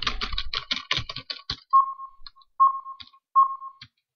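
Computer keyboard keys pressed in a quick flurry of close clicks, followed by several sparse single taps with short electronic beeps between them.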